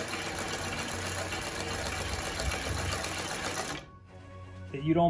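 An industrial Singer 20U style sewing machine with a size 16 needle stitches embroidery in a loud, steady, continuous whir for nearly four seconds, then stops abruptly, leaving a quiet hum and a faint clink at the end.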